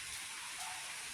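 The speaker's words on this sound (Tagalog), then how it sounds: "May araw. Pero umuulan. Ayan. Umuulan siya." Steady rain falls in sunshine as an even, broadband hiss, moderately faint and continuous, with no voices or other distinct sounds.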